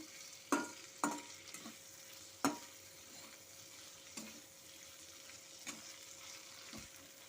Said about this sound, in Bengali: এখন আমি এর মধ্যে মাছটা দিয়ে দিচ্ছি। দিয়ে সমস্ত কিছুকে একসাথে একটু ভাজা ভাজা করে নেব।